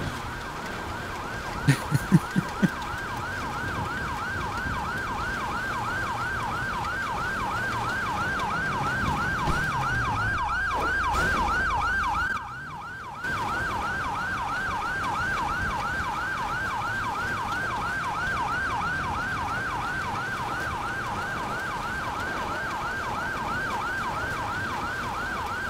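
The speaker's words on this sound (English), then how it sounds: "I hear the sirens in the distance." Police sirens wail continuously in the video game GTA 5 roleplay, a steady cycling tone that holds clear and fairly prominent across the whole stretch, with traffic noise underneath and a brief dip in the middle.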